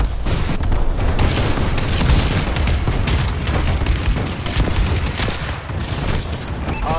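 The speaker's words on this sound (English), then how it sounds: "Friendly bombing run clearing the way." Explosions from a friendly bombing run in the Call of Duty: Advanced Warfare video game, a loud, continuous barrage of booms and blasts rolling on for several seconds with no let-up.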